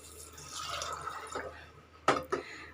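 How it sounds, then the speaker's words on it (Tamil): Water is poured over soaked white cowpeas in a cooking pot for a karamani gravy, a soft steady trickle followed by a couple of sharp splashing drips near the end, close and without speech. "இப்போ இது முழுகிற அளவுக்கு நம்ம தண்ணி விடுவோம்"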